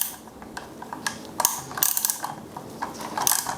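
A ratchet fitted with an 8 mm socket clicks as a screw is loosened on a Race Navigator Pro mount, rapid close pawl clicks in short irregular bursts, with no talking.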